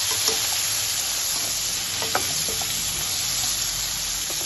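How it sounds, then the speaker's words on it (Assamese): Pointed gourd frying in a pan with salt and turmeric powder. A close, steady sizzle runs throughout, with a few faint stirring clinks over it and no talk. "দি এইখিনি অলপ সময় ভাজি দিব।"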